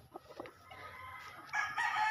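A rooster crows somewhere fairly distant, its call rising in the last half second after a few soft clucks and rustles.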